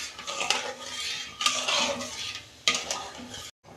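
Spoon stirring sugar into semolina halwa in a pan, giving repeated scraping and clinking strokes against the metal, close and fairly loud, with no talk over it.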